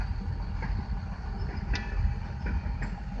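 A CSX freight train passes close by with a steady, dense rumble and rattling of railcars throughout, with no talking.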